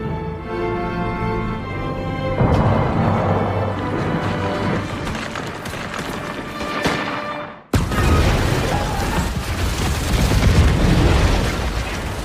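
Loud booms and explosive bursts from grenade launcher fire in a battle between apes and soldiers in a film scene, dense and sustained, with a brief drop before another heavy blast.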